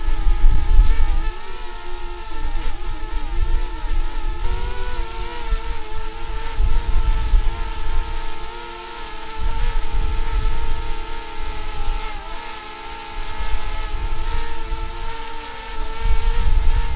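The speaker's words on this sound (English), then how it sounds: "Let's just see if we can fly the DJI Spark in a fresh breeze" A DJI Spark drone flies outdoors in a fresh, strong breeze, its propellers giving a steady close buzzing drone that is mixed with gusty low wind rumble throughout.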